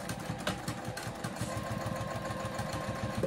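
A sewing machine runs steadily at close range, sewing an attachment stitch on a circle bag with zipper pocket, lining and binding; the needle's rapid even chatter continues without a break and no one speaks.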